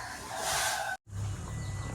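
Newly hatched chicks fill the clip, with loud shrill peeping in the first half, a brief silent gap, then softer clucking and chirping close by.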